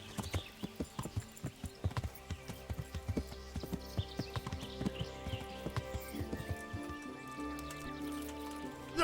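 Rhythmic horse hoofbeats in Kingdom Come: Deliverance clop steadily at a walking pace, close and clear, with a faint hum underneath.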